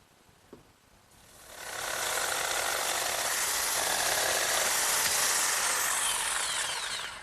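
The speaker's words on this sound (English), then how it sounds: "my jigsaw, set up with a nice fresh blade, does a real good job cutting out that notch" A jigsaw fitted with a fresh blade cuts a notch in a wooden leg for a sandbox, starting after a small click and then a loud, steady, buzzing saw rasp held close for several seconds.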